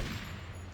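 Gunfire in GTA Vice City Stories, a dense burst of shots running steadily through the whole brief moment, loud and close with no talk over it.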